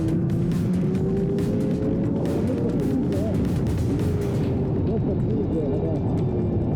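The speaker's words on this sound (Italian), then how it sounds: "Adesso ci sono dei momenti in cui si sentirà il rumore della moto cambiare." A 2024 Honda CBR1000RR-R Fireblade SP superbike engine roars loudly and continuously, its pitch rising and dropping as the revs shift, with a thick rumbling drone throughout.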